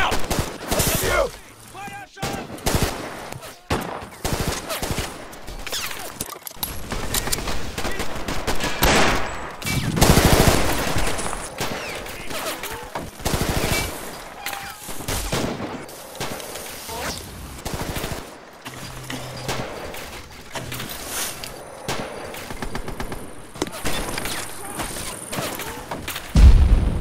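Movie battle scene with dense, rapid machine-gun and rifle fire, loud and continuous with booming hits, under shouted voices.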